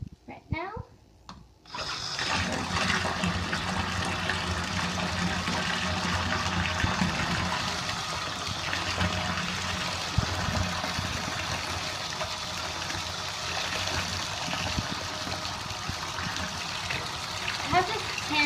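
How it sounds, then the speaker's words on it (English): A brief voice and a few knocks, then a tap starts and water rushes steadily and continuously, close by, with a faint voice now and then. "we're gonna run the water right now"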